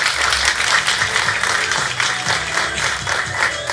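Sustained applause from an audience at the MadaAllStar Awards 2022 ceremony, a dense, even patter of many hands clapping at steady loudness throughout.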